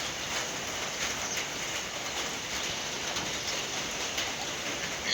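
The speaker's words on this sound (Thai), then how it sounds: "ฝนตก" Heavy rain falls steadily on rural rice fields, a dense, even hiss of drops pattering on surfaces that carries on unbroken and fairly close, with no voices.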